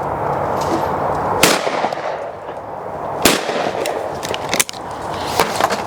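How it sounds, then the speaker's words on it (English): Lightweight shotgun shells fired at clay targets outdoors, with three or four sharp, loud reports spaced a second or two apart over a steady background hiss. "I'm shooting the light speeds which have not got all the recoil systems in them"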